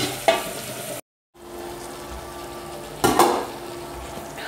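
Chayote and tomatoes frying in a pan, with a steady sizzle throughout, a couple of clinks from a utensil against the pan, and a brief silent gap.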